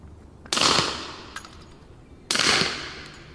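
Two gunshots from a firearm fitted with a .45 caliber suppressor, each a loud, close, broadband crack with a short rushing tail, spaced almost two seconds apart.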